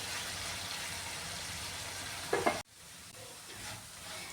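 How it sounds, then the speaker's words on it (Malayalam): Chicken pieces fry in oil for chicken pickle, a dense steady sizzle with a brief clatter as they are turned, then a sudden drop to a quieter hiss. "ഒരു സൈഡ് ഫ്രൈ ആയി കഴിയുമ്പോൾ ഒന്ന് തിരിച്ചിട്ട് കൊടുക്കാമേ"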